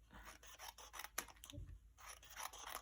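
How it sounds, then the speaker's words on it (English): Scissors snipping paper strips for a 3D pop-up box card, a string of close, crisp cuts in quick bursts with a short pause partway through, no talking. "So I would just cut some strips."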